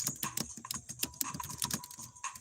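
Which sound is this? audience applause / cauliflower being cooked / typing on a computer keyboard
typing on a computer keyboard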